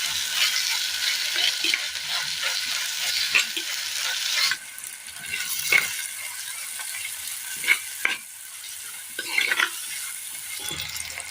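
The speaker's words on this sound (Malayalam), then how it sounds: "തക്കാളിയും സബോളയും നന്നായി ഒന്ന് വാട്ടിയെടുക്കണം." Tomatoes and onions sizzle steadily in a hot pan for a Kerala-style curry, while a spoon scrapes through them in intermittent stirring strokes, close and continuous.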